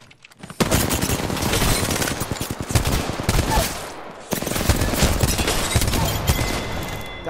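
Rapid automatic gunfire comes from a gun in a video game in two long, loud bursts of closely spaced shots, with a brief pause between them.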